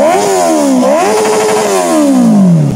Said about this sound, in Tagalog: Ang unit ni Sir Floyd ay Honda CB650R na naka SC Project na full system